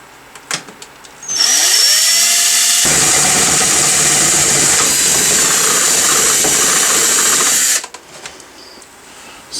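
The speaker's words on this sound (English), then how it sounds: "I am going to drill a hole in this piece of plywood" A power drill whirs steadily for several seconds, loud and close, revving up and grinding through plywood before stopping abruptly.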